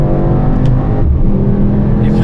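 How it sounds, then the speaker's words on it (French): A Mercedes-AMG GT63 S E-Performance accelerates hard with a loud, dense engine roar that holds steadily through the short burst, heard close up. "Quand le moulin se met en route, on a l'impression que la voiture veut décoller."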